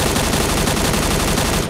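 An M4A1 rifle with a scope fires bursts in the Knives Out video game, a loud, rapid stream of evenly spaced gunshots lasting under two seconds before cutting off.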